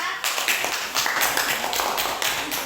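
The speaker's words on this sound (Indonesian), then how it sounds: "Tepuk tangan buat kelompok 4." A classroom group applauds together after a student group's presentation, with a steady mix of many hand claps filling the room, moderately loud and close, with no talk over it.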